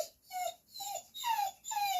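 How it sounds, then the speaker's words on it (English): A dog whining in a series of four high, drawn-out whimpers with short breaks between them, close by and fairly faint, in a workshop during a radio-controlled car differential repair. "If you're wondering, the dog whining"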